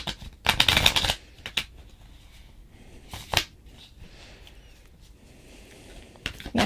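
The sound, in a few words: shuffling tarot cards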